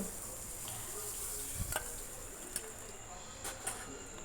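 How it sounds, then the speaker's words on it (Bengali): Potato pieces fry in oil left over from frying fish heads for a Bengali muri ghonto, a quiet, steady sizzle broken by a few soft clinks and stirs. "এবার আমি আলুটাকে ভেজে নিচ্ছি"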